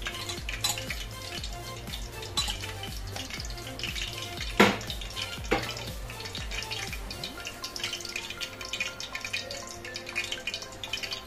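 Oil heating in a hot kadhai for cooking dal, a faint steady crackle and hiss with scattered small pops and a couple of louder clinks, close and without speech.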